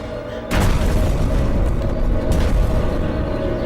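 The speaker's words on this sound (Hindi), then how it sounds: "लेकिन ये एक्सप्लोजन जैसा था।" A loud explosion in a Hindi-dubbed Hollywood film bursts in abruptly and then roars on as a dense, sustained rumble with a second surge partway through.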